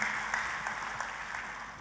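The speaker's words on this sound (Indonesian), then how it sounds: "Kita kasih tepuk tangannya pula yang paling meriah buat Tuhan kita" A church congregation claps throughout, a steady, dense wash of applause that stays fairly even for the whole stretch, with no one talking over it.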